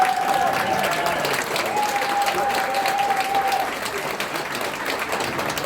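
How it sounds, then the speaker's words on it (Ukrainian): Steady crowd applause for the young DaVinciCrew dance team, a dense unbroken wash of clapping with a thin whistle-like tone running through the first half. "Люди, аплодуйте."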